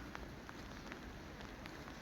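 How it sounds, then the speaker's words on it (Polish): Dense, steady hiss of rain falling, with scattered sharper drips striking a surface; constant and even throughout, no talking. "A nie pada, tylko leje."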